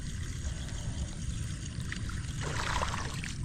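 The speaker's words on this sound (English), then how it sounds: "Hear them splashing water down there?" Shellcrackers splash in a pond beside a tree, with faint watery splashing and trickling that swells briefly near the end over low outdoor background noise.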